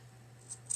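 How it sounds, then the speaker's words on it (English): Two quick, quiet scissor snips close by, cut left-handed, the second slightly sharper, over a faint low hum. "I don't know if I can cut with my left hand with these scissors."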